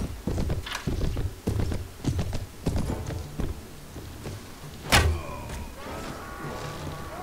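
Horse hooves clop in a rhythmic series in the medieval combat video game Prophesy of Pendor, followed by a sharp impact and some clattering game noise.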